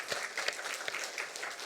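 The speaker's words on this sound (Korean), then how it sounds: "우리 한번 뜨겁게 한번 경례의 박수 하겠습니다" Applause from the congregation at a Sunday church service in Daerim-dong, a steady wash of many hands clapping throughout, moderately loud and dense.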